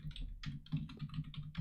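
Rapid clicking of computer keyboard keys being typed on, close and fairly quiet, in an irregular burst of keystrokes with no talking.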